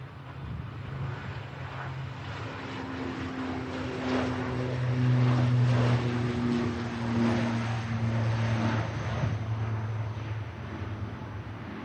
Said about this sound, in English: Got a nice aircraft coming in